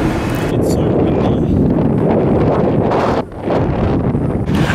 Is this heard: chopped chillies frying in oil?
no